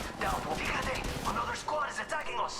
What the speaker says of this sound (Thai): ยิงยิงยิงยิง ไม่โดนเลยกระสุนหมด